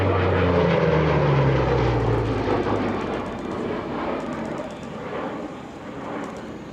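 A Flying Bulls P-38 Lightning, a restored twin-engine propeller warbird, comes in to land, its broad engine drone loud and close at first, then easing into a steadier fading roar.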